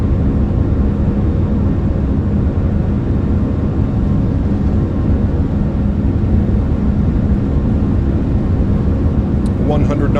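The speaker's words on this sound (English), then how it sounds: "Takeoff power set." Airbus A340-300 four-engine jet in a flight simulator roars steadily at takeoff power on the runway, a dense, constant rumble with no talk over it.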